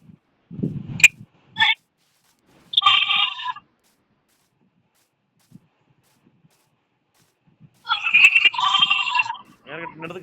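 Sheep bleat in the Minecraft video game, two loud bursts separated by quiet, with a few brief clicks and thuds before the first.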